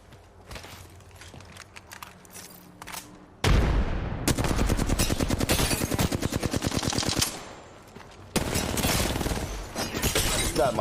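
Rapid game gunfire in loud, dense bursts with a brief shattering crack as an enemy's shield breaks in a first-person shooter, the firing stopping and restarting in several long volleys.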